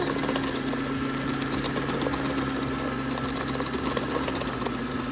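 Electric mixer whirring steadily through cupcake batter, a continuous buzzing motor drone that stays close and even from start to finish, with no talk.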